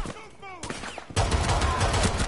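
Dense gunfire from the Rainbow Six Siege game breaks out loud and continuous partway through, after a stretch of quieter clatter, with some voice mixed in.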